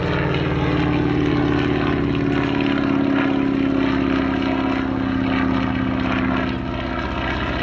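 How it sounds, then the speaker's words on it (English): A 1942–43 US Navy N2S biplane with a 220-horsepower Continental R670 radial engine flies at an airshow, giving a loud, steady propeller drone that holds strong and eases slightly at the end. "This very attractive one, an N2S from the US Navy built. It's believed in about 1942 or 43, 220 horsepower for its Continental R670 engine"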